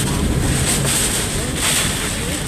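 Strong hurricane-force wind from Hurricane Michael in Panama City roars steadily into the microphone, a loud continuous buffeting rush with gusty surges and no speech.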